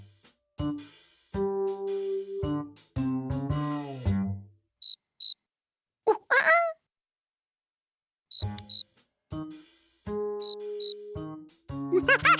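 A cricket chirps in a Curious George cartoon, giving loud, rhythmic chirp bursts set among cartoon music and sound effects, with short silent gaps in between.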